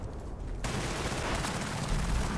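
AUG assault rifle in Battlefield Bad Company 2 multiplayer, a sudden dense burst of rapid gunfire that breaks in after a brief quieter moment and keeps going loud and close, with booming impacts mixed in.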